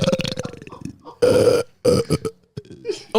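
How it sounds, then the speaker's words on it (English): A loud, long burp pushed right into a microphone, deep and rumbling, surrounded by several shorter voiced bursts and bits of talk from people nearby. "Burp right into my microphone."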